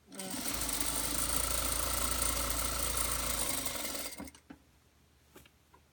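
A sewing machine runs a steady, loud stitching burst for about three and a half seconds while sewing a two-inch double-fold hem around a bag, then stops, followed by a few faint clicks and handling sounds.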